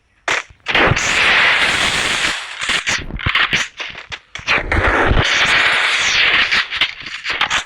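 Repeated loud gunfire in a shooting video game, bursts of rapid shots separated by short pauses and clattering effects, close and dominating throughout.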